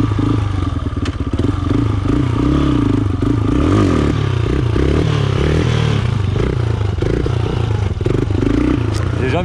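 A personally built quad bike's engine revs hard and loud throughout a wheelie attempt, the pitch wavering as the throttle surges and eases, with some clattering and scraping close by.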